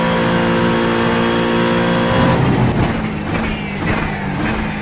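A GT3 race car in the iRacing sim at Mugello: a loud, close engine wail holding a high note, then dropping and climbing again through quick shifts and braking.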